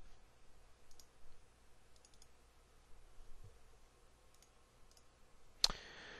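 Computer mouse clicking while working in After Effects: a few soft, scattered clicks followed by one sharper, louder click near the end, in a quiet room.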